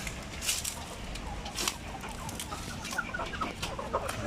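Chickens cluck nearby inside their cages in short, irregular bursts, with a few louder squawks standing out over a busy, noisy outdoor background.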